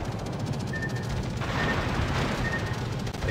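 Naval guns fire in the World of Warships video game during a destroyer battle, with a dense, rumbling barrage of booms and impacts rolling continuously under steady game ambience.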